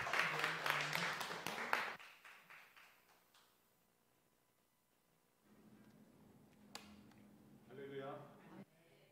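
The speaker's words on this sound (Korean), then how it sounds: "목사님 나오실 때 환영의 박수로 맞이해 주시면 감사하겠습니다." A church congregation claps to welcome a visiting pastor at a Korean mission service, a dense burst of applause lasting about two seconds, followed by quiet and then a voice speaking.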